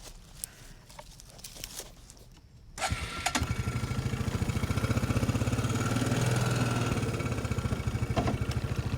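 A four-wheeler ATV, its front lifted so the wheels are off the ground, cranks and catches, then settles into a loud, steady, rapidly pulsing idle. Quieter shuffling and a few clicks come before it starts.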